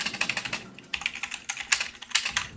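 Typing on a cheap $20 computer keyboard, bursts of rapid clicky keystrokes in uneven clusters with brief pauses between, close and crisp with no voices.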